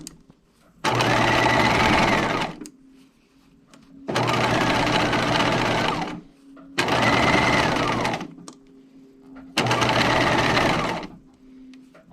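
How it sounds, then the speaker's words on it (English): A sewing machine stitches through the facing layers of a collar an eighth of an inch from the seam line, running in four steady bursts of about two seconds each, close and loud, with short quiet pauses between them. "now I'm stitching on the facing layers 1/8 inch away from the seam line where the collar is attached"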